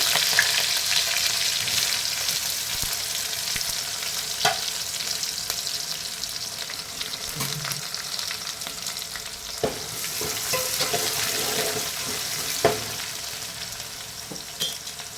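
Spring onions sizzling in a hot pan while being stirred, a steady bright hiss with occasional scraping clicks of the spoon, close and continuous with no talk.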